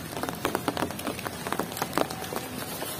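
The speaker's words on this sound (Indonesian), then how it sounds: "Dan kebetulan ini sudah hujan juga sahabat." Rain falling steadily in a Sundanese village among kite makers' workshops, a soft continuous patter with scattered drop hits at moderate distance, no voices.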